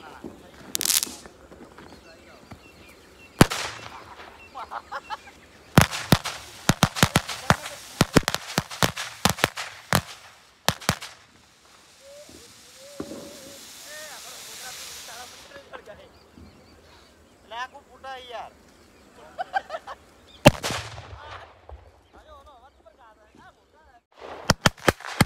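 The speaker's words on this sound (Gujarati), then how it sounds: "બોમ્બ ફૂટાશે." Diwali firecrackers burst in loud, sharp cracks, some single and some in rapid crackling runs, spread across the scene with quieter gaps between. People talk and call out in the background.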